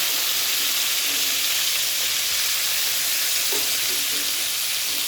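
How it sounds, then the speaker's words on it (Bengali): Whole garam masala spices sizzle in hot oil in a wok, giving a dense, steady, hissing crackle that stays loud and close for the whole stretch. "এবার কড়াইতে যে তেলটা আছে তার মধ্যে আমি গোটা গরম মশলা ফোড়ন দিয়েছি"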